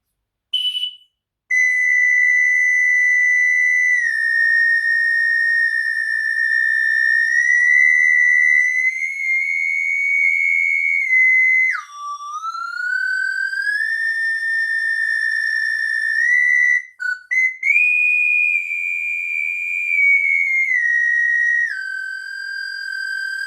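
A triple slide flute playing a sustained, pure whistling tone with layered overtones that glide up and down in pitch, with brief breaks and sudden bends, close and alone, sounding eerie and synthetic.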